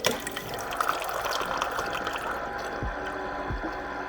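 Water rushes steadily through a Bartesian cocktail machine, a continuous liquid flow with a faint pump hum and a couple of low thumps near the end.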